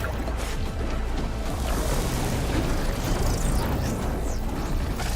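Loud, continuous rumbling blasts and booms fill the scene in Horizon Forbidden West's Burning Shores expansion, with dense low-end roar and sweeping whooshes layered over it, like nonstop video game explosions.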